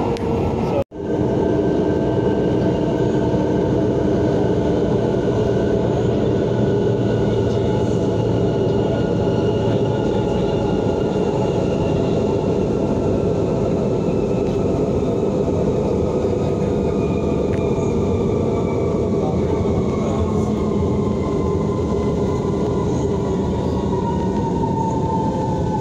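Manila MRT metro train riding between stations, a loud continuous rumble of wheels and motors with rising and falling whine tones filling the whole stretch, steady and close from inside the carriage.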